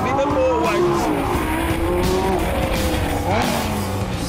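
A Lamborghini Gallardo LP570-4 Performante driven hard on a race track, its engine roaring loud and close through rising and falling revs, with tyre noise and a voice talking over it.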